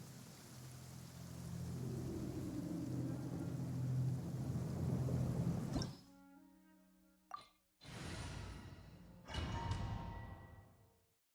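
Rain and a rumble of thunder in the Genshin Impact video game: steady rain hiss fades into quieter ambience, then a sharp crack and a second thunderous roll swell and die away, with no voices.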